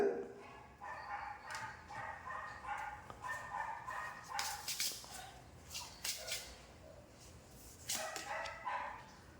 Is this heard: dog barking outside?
yes